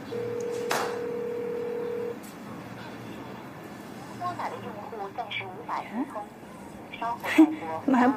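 Phone call ringing unanswered: a single steady ringback tone sounds once, then fades as a voice talks over faint background noise.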